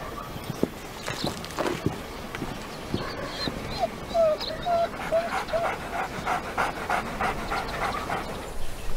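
Dogs pant in quick, rhythmic breaths up close, with a few high, thin whimpers rising among them for several seconds.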